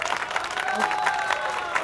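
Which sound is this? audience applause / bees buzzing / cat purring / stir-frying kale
audience applause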